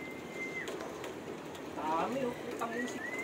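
Racing pigeons coo at a loft as young birds arrive home from a race, soft throaty coos and a few chirps rising over steady outdoor background noise while people talk nearby.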